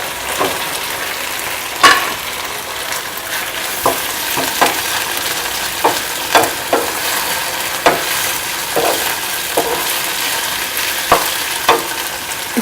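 Paneer cubes frying in a hot pan for chilli paneer, a dense continuous sizzle broken by regular scraping stirs of a spatula, close and fairly loud with no voices.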